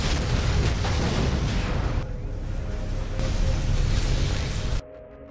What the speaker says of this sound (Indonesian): dia segera meledakkan gedung itu hingga hancur